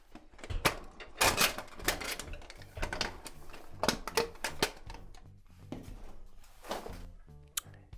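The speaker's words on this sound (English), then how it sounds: "Let's make sure the door closes all the way with that cover on." A network rack door is swung closed and tested for fit with a cover on, producing a run of sharp metallic clacks, rattles and latch bangs, loud and close, with no speech.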